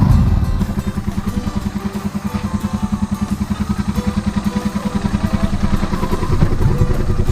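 Borrowed motorcycle engine warming up before a round of selling eggs on a Philippine farm, a steady close idle with rapid even firing pulses and a slight swell in revs toward the end, no talking.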